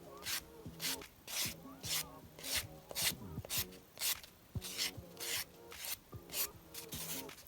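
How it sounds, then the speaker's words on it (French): Light sanding block strokes rub across a painted, sponged colour-gradient finish, a soft raspy scrubbing repeated in about a dozen short bursts, steady and close with no voices. "mettre un coup de bloc ponce, un tout petit coup vraiment très léger"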